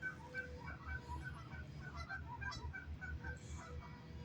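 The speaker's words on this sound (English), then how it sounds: "Well, that's goose." Geese honk repeatedly in a fairly close, steady series of nasal calls over a low rumbling background at a cold, icy tide-pool shoreline, with no talking.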